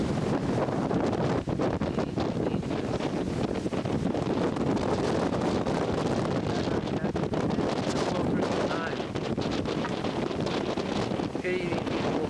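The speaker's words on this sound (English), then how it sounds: "It's still very cold, very windy." Strong cold wind on Grandfather Mountain buffets the microphone in a constant loud roar, with faint voices underneath.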